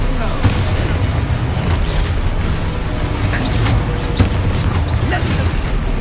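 Expulso spell explosions in the Hogwarts Legacy game, a continuous loud rumbling barrage of booms and bursts with sharp pops scattered throughout, heard during spellcasting combat.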